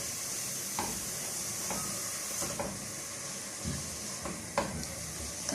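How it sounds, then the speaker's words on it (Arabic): Tomatoes sauté in a pan for chicken kabsa, a continuous bright sizzle with occasional stirring knocks and scrapes, close and steady. "هنشوح برضه تشويح حلو"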